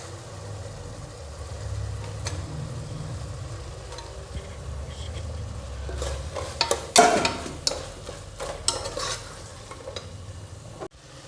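Onions sautéing in hot oil in a pan for mushroom biryani, a steady low sizzle that grows busier midway, with stirring scrapes and clicks of a utensil against the pan.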